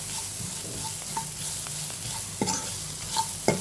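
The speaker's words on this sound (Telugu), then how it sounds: "ఇది కొంచెం నూనెలో అట్లా ఫ్రై అయితే చాలు." Spices such as chili powder and coriander powder frying in a little oil for a tomato curry, a soft steady sizzle with occasional scraping clinks of a spoon stirring the pan, close and without talk.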